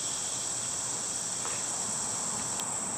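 A steady, high-pitched trill of cicadas runs continuously, with faint cricket chirps scattered beneath it in an otherwise quiet daytime outdoor setting.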